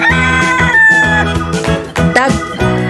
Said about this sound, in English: Rooster. This is rooster.